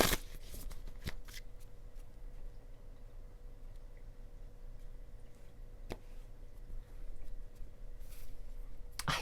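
A deck of cards being shuffled at a tabletop reading, with a couple of sharp riffle bursts at the start and end and faint soft card handling in between, close and quiet.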